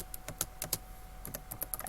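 Typing on a computer keyboard while entering math, with quick bursts of light key clicks separated by short pauses.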